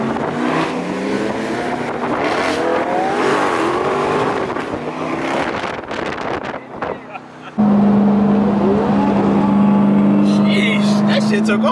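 A Dodge Durango Hellcat accelerates hard, its supercharged engine roaring loud and close with a rising rev sweep, then a steady high whine after a cut, with excited voices talking over it.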